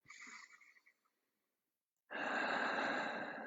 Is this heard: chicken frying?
no